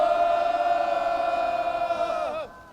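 Loud, sustained cheering and shouting from party members at a Justice Party rally urging passage of the fast-track bill. A dense wall of voices holds steady for over two seconds, then cuts off sharply.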